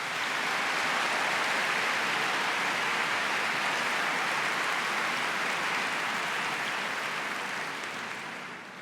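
A large audience at a memorial ceremony breaks into steady, dense applause that holds loud and even for several seconds before slowly fading, with no voices over it.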